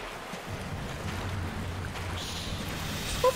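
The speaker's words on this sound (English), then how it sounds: "I only hear the water." Flowing water in the horror video game The Classrooms, a steady low rushing wash of water that fills the space evenly and quietly, with no voices over it.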